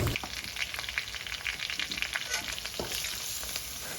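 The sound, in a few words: onions frying in a pan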